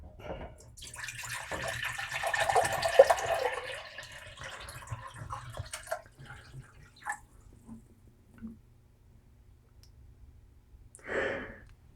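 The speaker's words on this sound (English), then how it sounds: "I want to pour off 5 cups of our water because we're not going to need it." Water is poured out of a container while making a one gallon batch of dark cherry mead. It gives a steady splashing pour for a few seconds, then a few scattered drips and small clicks in a quiet room.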